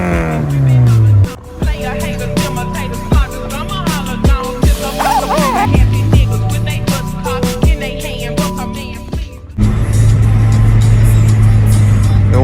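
A 1.8-litre, 136 hp Honda Accord 6 is on the move, its engine humming steadily and rising and falling in pitch as it accelerates and shifts gears. A louder, rougher stretch of road and engine noise follows near the end.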